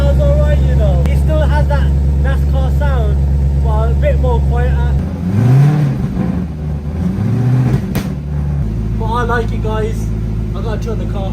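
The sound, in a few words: Audi RS4 B6 engine revving with new mufflers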